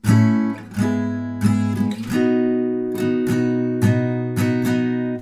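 Acoustic guitar strumming a chord progression, with several ringing strums that shift chords over a few seconds, played alone and fairly loud.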